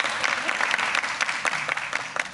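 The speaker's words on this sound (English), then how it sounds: "Give them a round of applause" An auditorium audience claps steadily for the film's cast and directors at a press conference for The Gallows, a dense, continuous patter of many hands with a few sharper individual claps near the front.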